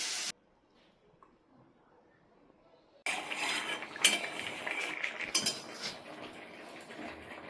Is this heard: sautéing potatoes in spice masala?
yes